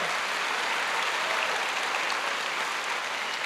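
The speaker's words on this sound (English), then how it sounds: "Would you give them a round of applause?" Dense, steady applause from a concert audience fills the whole stretch, loud and even with no pauses.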